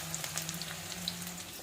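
Curry leaves, cumin and mustard seeds sizzle in hot oil with a soft, steady crackle and scattered small pops, faint and close, with no voices.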